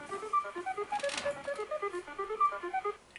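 A rapid run of quiet electronic beeps and tones hops up and down in pitch as a Tic-Tac-Dough game show board shuffles, with no talking.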